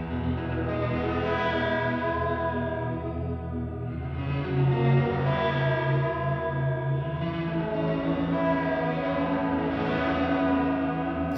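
Sonicake Matribox multi-effects pedal on a reverb setting with a vibrato-like modulation, mix turned fully up, washing a played guitar into a dense, continuous, loud swelling wash of sustained tones with no voice over it.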